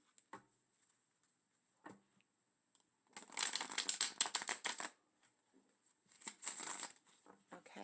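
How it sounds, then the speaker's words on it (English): Tarot cards being shuffled by hand, two distinct bursts of rapid riffling and flicking separated by near silence, with faint handling sounds before, close and fairly quiet. "Okay, one more shuffle."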